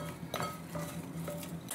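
Potatoes seasoned with salt and turmeric being mixed in a bowl, close clinks and scrapes of a utensil against the dish in a quick uneven rhythm.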